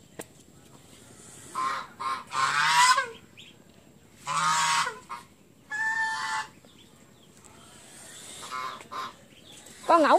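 Geese at a village home in rural Vietnam honk in several loud, harsh bursts, repeated calls with short gaps between them, close by and with no one talking over them.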